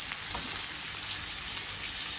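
Onions, green chilies and curry leaves sautéing in oil for a goat liver gravy, giving a steady, soft frying sizzle with a faint stir or two, close and continuous with no voices.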